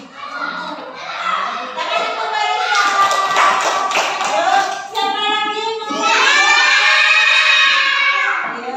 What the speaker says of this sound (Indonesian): Tepuk tangan yang bagus.